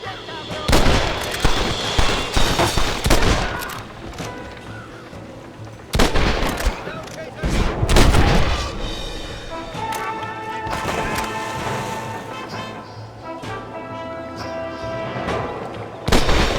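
Enemies shoot down from a clifftop in Red Dead Redemption: loud, scattered rifle and gun bursts come in clusters, with quieter gaps between volleys and voices sometimes heard among the shots.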